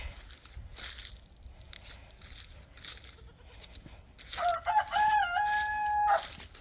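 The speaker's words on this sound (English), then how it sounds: "It's my rooster Rudy saying hi" A rooster crows once, a loud rising and falling call near the end, following scattered rustling and faint clucking sounds.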